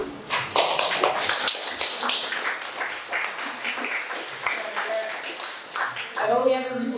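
Audience at a poetry reading claps after a poem, a scattered, fairly close round of hand claps that holds steady for several seconds before fading as a voice begins to speak at the end.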